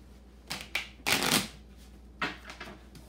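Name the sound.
shuffling a deck of playing cards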